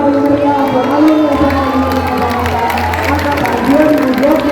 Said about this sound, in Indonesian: boleh berikan tepuk tangan yang paling meriah buat alumni